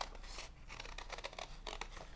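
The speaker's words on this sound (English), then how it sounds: "go back in and cut that out with my detail scissors." Small detail scissors snip through thick card stock while cutting out scalloped shapes, a series of close, crisp clicks and crunchy cuts in irregular bursts over a quiet background.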